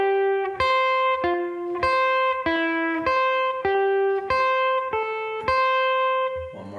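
A guitar plays a two-string pedal point with C held as the repeated pedal note, giving a clean, bright pattern of plucked two-note pairs in a steady rhythm, about a dozen attacks, ringing and unaccompanied.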